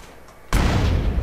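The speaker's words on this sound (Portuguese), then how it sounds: "Bom, vamos ter que explodir essa van." A van explodes in GTA San Andreas after a shot to its fuel tank, a single loud sudden boom that cuts in after quiet game ambience and rolls on as a heavy rumbling roar.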